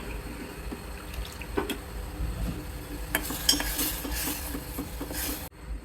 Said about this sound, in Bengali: দুধটাকে খুব ভালো করে ঘন ঘন নেড়ে দিব এবং ঘন করে নেব